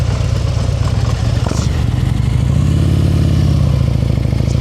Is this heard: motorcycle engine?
yes